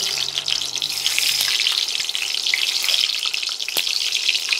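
Egg frying in hot oil for a coconut-milk egg curry, a loud, steady, close sizzle throughout with a faint tap partway through.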